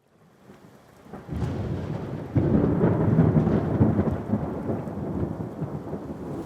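A thunderstorm at sea, with a rumbling roll of thunder building into heavy, steady rain and a deep crack midway, loud and continuous with no voices.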